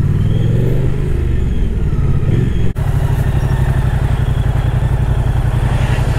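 A motorcycle being ridden on a road gives a steady, close engine drone throughout, cutting out briefly for a moment near the middle before resuming.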